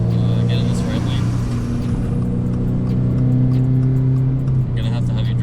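A modified 2022 Subaru BRZ with a titanium exhaust pulls hard from inside the cabin, the engine tone rising in steady, resonant harmonics before easing off near the end.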